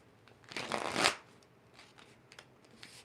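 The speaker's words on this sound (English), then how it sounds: "Then let's do another shuffle." A deck of tarot cards is riffled in one quick, close burst lasting about half a second, then a few faint soft card taps and handling sounds follow in a quiet room.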